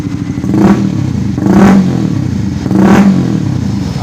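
Honda CBR 150 Facelift with a three-mode aftermarket exhaust in half-open street mode, revved three times in a row, each rev swelling to a loud, deep, bassy roar and then dropping back to a rumbling idle.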